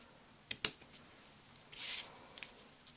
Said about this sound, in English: Let me just snip this now on an angle.